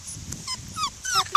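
A female puppy from a litter whimpers and yips, a series of thin, high, wavering cries rising and falling in short bursts, close by with no talking over them.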